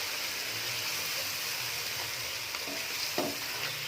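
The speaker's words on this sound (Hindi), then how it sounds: "इसको हम अब अच्छी तरह से भून लेंगे" Chicken frying with coriander powder in a pan for kachnar chicken, a loud, steady close sizzle with stirring scrapes and a brief clink near the end, with no talk.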